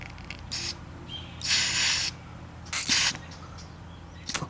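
Air blown through the float valve of a carburetor that is not shutting off fuel, heard as a few short, close hissing bursts separated by quiet gaps.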